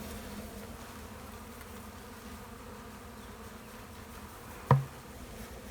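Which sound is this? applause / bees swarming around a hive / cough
bees swarming around a hive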